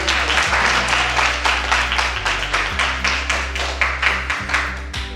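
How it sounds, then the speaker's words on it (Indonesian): A classroom of children claps in a quick, steady rhythm, a bright run of repeated hand claps throughout with a low hum beneath. "tepuk tangan untuk kita"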